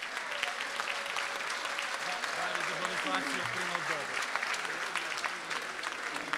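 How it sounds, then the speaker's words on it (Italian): A crowd claps loudly and continuously at a Lega Nord party rally in Umbria, dense applause filling the whole stretch, with an Italian-speaking voice faintly audible beneath it. "Un forte applauso, un ringraziamento."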